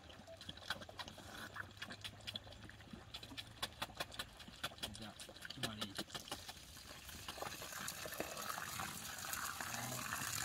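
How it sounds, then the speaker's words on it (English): Water from a solar pump drawing on a shallow well in Uganda pours into a 5-liter container, a continuous splashing gush that grows fuller and louder as the container fills, close to the microphone. "10 seconds to fill 5 liters of water"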